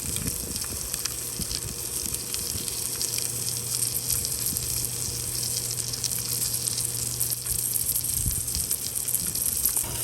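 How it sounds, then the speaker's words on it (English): Rainbow trout frying in a pan with lemon butter garlic, giving a steady, loud sizzle that carries on without a break and with no talking. "We are throwing the lemon butter garlic on there first. Let that simmer."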